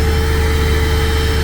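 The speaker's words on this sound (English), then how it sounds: "The vacuum cleaner goes on." A vacuum cleaner runs off the Pro Power Onboard outlet of a 2023 Ford Super Duty truck, giving a loud, steady motor drone with a constant tonal hum throughout and no talking.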